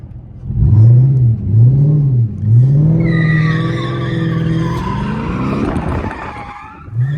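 A Chrysler 300 with a 3.09 limited-slip differential sliding in second gear, the engine droning and rising as the tires let out a long, loud, close squeal during the skid.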